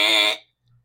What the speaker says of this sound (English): I wish I had a button, a buzzer